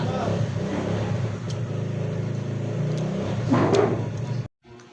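A motorcycle engine runs and revs with a steady rough drone, rising briefly near the end before cutting off abruptly.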